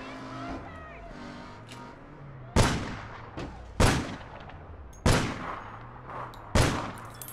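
Pistol shots in APB Reloaded ring out four times at irregular intervals, each a sharp, loud crack with a decaying tail, over a low background of game engine and car noise.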